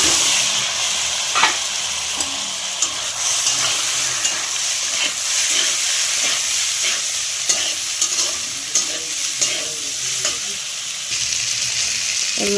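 Spiced pasta tossed in a pan of fried masala, sizzling steadily with constant hiss and scattered scraping stirs throughout, close and fairly loud, no talking.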